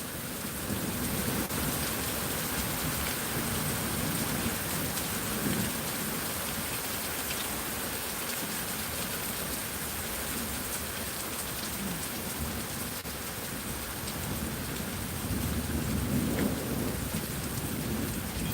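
Heavy rain pours down steadily with low rumbles of thunder rolling underneath, a constant dense wash of sound with no voices.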